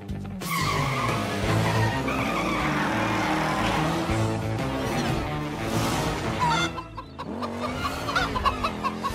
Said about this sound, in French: Il faut qu'on arrête ce turbo-pneu avant qu'il ne détruise toute la planète.